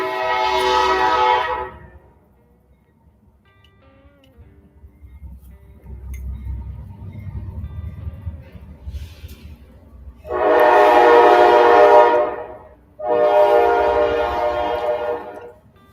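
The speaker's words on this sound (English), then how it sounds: "They have to blare their horn through this part of the city" A train passing through a city sounds its horn in three long, loud blasts. The first is about two seconds, then a quieter rumble of the train follows, then two more drawn-out blasts come close together near the end.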